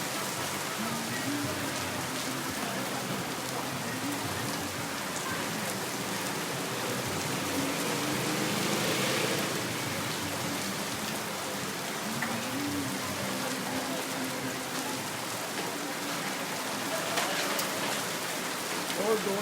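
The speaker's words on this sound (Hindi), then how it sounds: "बहुत ही शानदार बारिश शुरू हो गई है।" Heavy monsoon rain pours down in Lahore, a dense, continuous hiss of drops striking surfaces close by, steady and loud with slight swells, no voices over it.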